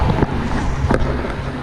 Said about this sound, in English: the wind has picked up again.